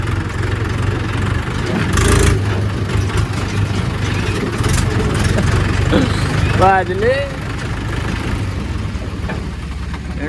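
A tractor engine idles at a brick kiln near Delhi NCR with a loud, steady low chugging throughout, while someone talks over it.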